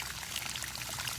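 Pumped 50-degree well water pours steadily over walleye fillets being cleaned, a continuous close splashing stream with no talk.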